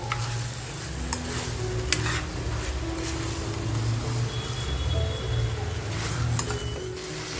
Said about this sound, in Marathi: अगदी 10 मिनिटं तरी आपल्याला एक छान असं परतवून घ्यायचंय.